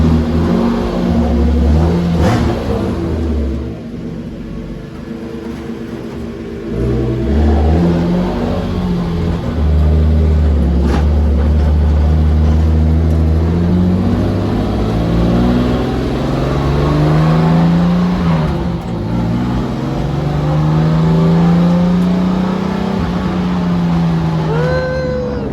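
A turbocharged BMW M50 engine revs while warming up, running on a flex-fuel setup, with steady loud droning and rising and falling revs that sweep up and down across the whole stretch. It sounds close and continuous.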